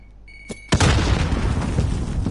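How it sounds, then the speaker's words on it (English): In a video game, a grenade goes off with a single loud, sudden boom after a brief quiet click and tone, followed by a long rumbling, crackling decay. "Grenade out!"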